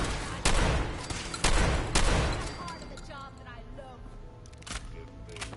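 Shotgun slug rounds fire in Fallout 4, a few loud booming shots in quick succession with echoing tails, followed by quieter game ambience and faint chirping.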